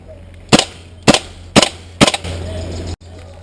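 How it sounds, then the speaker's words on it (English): During an airsoft game, an airsoft gun fires four sharp, loud cracks at close range, spaced roughly half a second apart, followed by a brief lingering rattle. "That was just pot shots."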